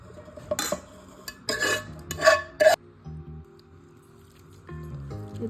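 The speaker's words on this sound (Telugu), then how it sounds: "ఇప్పుడు ఇదంతా మంచిగా మిక్స్ చేసుకోవాలండి" Garlic pickle being stirred with its tempering in a bowl, giving a few wet, squishy mixing sounds and spoon clinks against the dish in short bursts, with quiet gaps between them.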